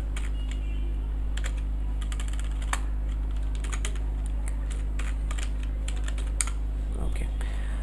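Fast, uneven clatter of typing on a computer keyboard while writing in Microsoft Word, close and crisp over a constant low electrical hum, with a few heavier keystrokes.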